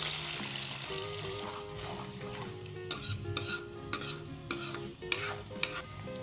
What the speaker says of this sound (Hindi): जो हमने अंडा फेंट कर रखा है इसके अंदर हम डाल देंगे। इसे फुटकी बनाएंगे या इसे भुर्जी बनाएंगे या स्क्रैम्बल करेंगे।